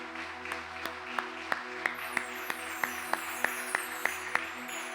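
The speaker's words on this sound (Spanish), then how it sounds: "le damos una ofrenda de palmas a nuestro Señor" A church congregation claps together in steady rhythm over sustained music, sharp regular handclaps roughly three per second, moderately distant.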